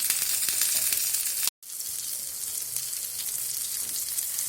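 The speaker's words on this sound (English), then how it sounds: "Let it fry for 5 minutes." Mackerel coated in masala fries on a tawa with a constant, close, crackling sizzle, briefly cut by a moment of silence.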